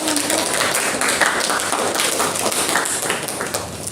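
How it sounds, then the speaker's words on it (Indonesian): A classroom of students applauds a group, giving a dense, steady burst of clapping that fills the room for a few seconds. "tepuk tangan untuk kelompok"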